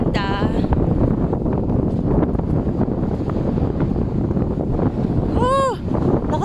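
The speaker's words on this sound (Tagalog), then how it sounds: "lakas ang hangin." Strong wind on Banggi buffets the microphone in a constant loud roar, with a voice briefly breaking through near the end.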